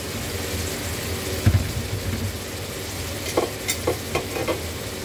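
Carrots and potatoes hit a hot pan with a steady low sizzle, a few scraping stirs and clinks of a utensil against the pan near the end, close and moderately loud with no talking.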